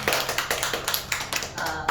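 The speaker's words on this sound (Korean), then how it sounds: "박수 치고." A small group of people claps hands in a quick, regular run of sharp claps, moderately close and fairly quiet, with no talk over it.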